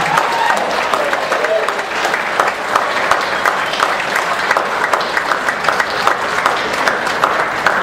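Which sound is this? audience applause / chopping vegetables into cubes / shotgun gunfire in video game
audience applause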